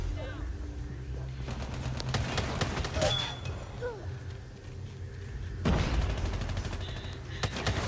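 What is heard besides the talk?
speed shotgun firing in Call of Duty Mobile video game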